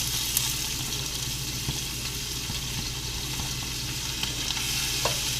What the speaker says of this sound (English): I am now going to put in our veggies.